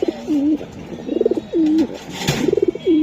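Long-distance racing pigeons at a breeding loft coo close by in repeated throaty phrases, rolling bursts alternating with drawn-out coos in a steady rhythm.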